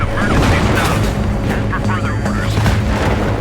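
A loud, rumbling explosion in the Battlefield 3 video game sits within a dense wash of battle noise, with excited voices talking over it throughout.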